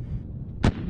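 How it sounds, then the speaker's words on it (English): A single sharp blast from a blow-in-place detonation of a misfired cratering charge, set off by military engineers during demolition training, bursts out briefly over a low rumbling background. "After one charge misfires, a vehicle called a Buffalo moves out to perform a blow-in-place"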